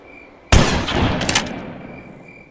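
A single sharp, loud gunshot for a headshot in the horror game Granny Chapter 3, a sudden blast followed by a decaying ring and rattle lasting about two seconds.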